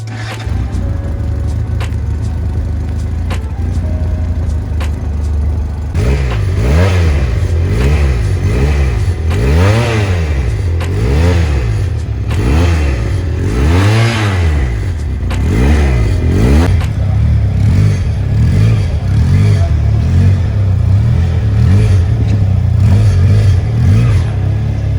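A 2023 Taro GP V3 300cc motorcycle engine revving repeatedly, loud and close, with rising and falling throttle sweeps over a continuous idle.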